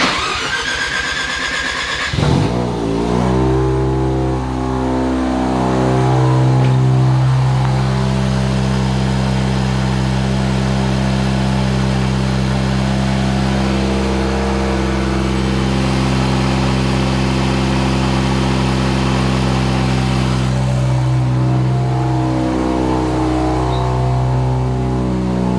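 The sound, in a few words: car engine started and revving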